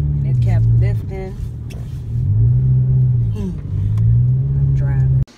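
A car driving on the road, its engine rumbling low and steady with a few rises and dips in pitch, heard from inside the cabin while a person speaks over it.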